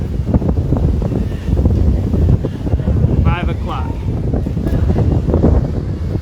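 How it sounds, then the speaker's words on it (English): Steady wind buffeting and rumbling against the microphone, with someone talking briefly over it. "It's really windy out, man."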